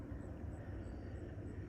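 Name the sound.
black helicopter flying overhead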